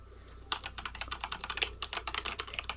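Rapid typing on a Durgod mechanical keyboard, crisp clacky keystrokes in an uneven, quick rhythm, close and fairly quiet with no voices.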